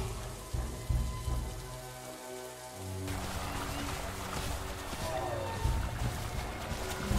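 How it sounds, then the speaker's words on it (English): Steady rain in the survival dinosaur game The Isle, a dense hiss of drops pattering on surfaces that thickens partway through, with low rumbling game ambience underneath and no voices. "The rain has stopped."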